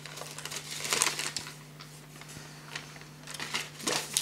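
A plastic shopping bag crinkles and rustles in short bursts, close up, with a steady low hum underneath.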